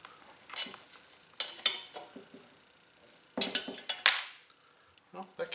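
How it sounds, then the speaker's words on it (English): An old rotary shaft oil seal is pried out of a Shopsmith 610 jigsaw with a metal tool, giving quiet scattered metallic clinks and scrapes with a few louder clustered taps nearby. "So I need to prise this one out."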